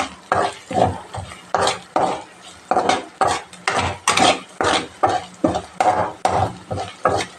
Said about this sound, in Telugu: కొబ్బరి పొడి వేసుకొని కలుపుకుందాం.